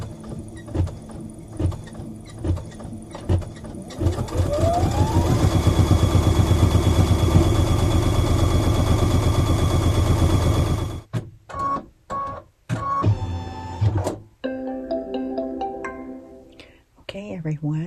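An embroidery machine stitches a beginner mug rug design, a rapid mechanical clatter building into a steady loud run, then stopping and restarting in short bursts with pauses.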